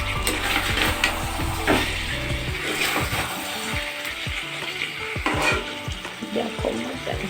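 Mutton frying in a pan in a home kitchen, with a steady broad sizzle, repeated scraping and clinking of a utensil as it is stirred, and sharper knocks against the pan. Close and moderately loud, no talking.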